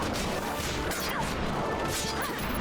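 Objects being smashed in the video game Final Fantasy XII: The Zodiac Age, a steady wash of game effects with several crash-like hits spread across the stretch, fairly loud and continuous, with no talking.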